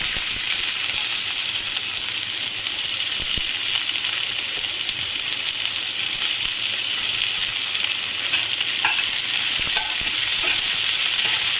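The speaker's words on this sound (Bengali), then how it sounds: "এবারে আমি এর মধ্যে দিয়ে দেবো পেঁয়াজ" Onions fry in hot oil already seasoned with cumin, bay leaf and cardamom for a raw banana kalia, giving a loud, constant close-up sizzle and hiss that never lets up, with no voices.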